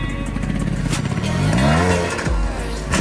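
A dirt motorcycle's engine roars loudly and steadily at a rider's own motocross terrain, climbing in pitch as it revs and accelerates, with a brief scrape near the end.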